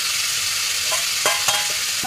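Onion and green chili frying in a pan, a steady close sizzle with a few sharp stirring clicks near the end, no voices.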